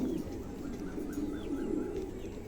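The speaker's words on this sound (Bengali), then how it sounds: "চমৎকার এক জোড়া কবুতর" A pair of pigeons for sale, with low cooing under a steady background hum and faint chirps, close and continuous for a short stretch.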